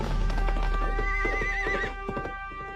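A horse lets out a loud, close whinny over a steady run of clip-clopping hoofbeats, with the neigh tapering off as the hooves keep sounding.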